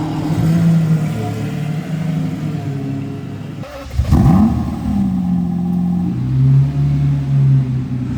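A Lamborghini Murcielago engine revs and idles steadily, with a sharp throttle blip midway and rising, falling pitch afterward; loud, close, no voices.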